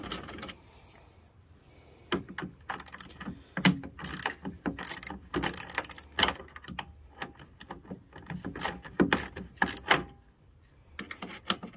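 A ratchet wrench loosens 10 mm bolts on a car headlight assembly, with bursts of quick clicking strokes and scattered metallic clatters, close and moderately loud with quiet gaps.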